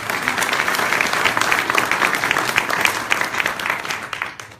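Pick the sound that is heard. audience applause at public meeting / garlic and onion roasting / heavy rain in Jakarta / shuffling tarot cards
audience applause at public meeting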